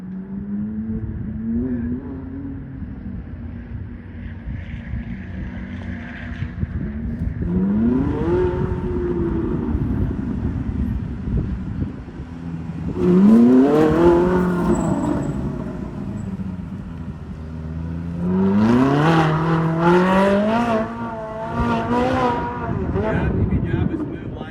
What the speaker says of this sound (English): my cousin took some video of me driving around in the car outside